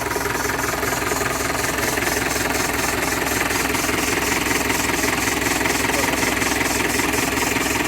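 A modified vehicle engine runs at a steady idle, loud and close, with a rapid even knocking pulse and constant vibration and no pauses.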